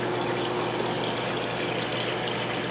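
Water topping off a reef aquarium, heard as a steady, loud, continuous rush of flowing and pumping water up close, unchanging throughout with no voices.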